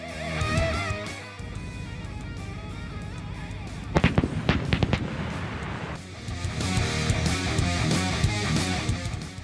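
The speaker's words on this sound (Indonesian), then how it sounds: "Latihan tembak langsung dilakukan pada hari pertama latihan militer gabungan Talisman Sabre di Queensland Utara." Live-fire gunfire and explosions from the Talisman Sabre joint military exercise in North Queensland, a cluster of sharp loud cracks and booms in quick succession amid a rumbling field ambience.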